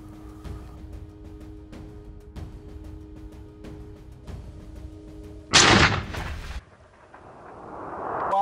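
A single loud rifle shot rings out while hunting blesbuck on an African safari, a sharp crack with a brief rumbling tail, following a stretch of quiet outdoor background.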